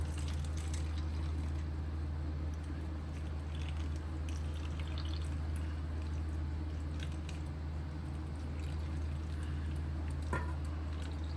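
Amla and curry leaf juice is poured into an ice cube tray, making a soft, steady liquid trickle over a constant low hum with no talking.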